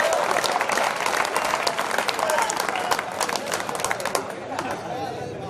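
Audience applause at a Hindi comedy poetry gathering, a steady wash of crowd clapping that fades toward the end, with someone speaking over it.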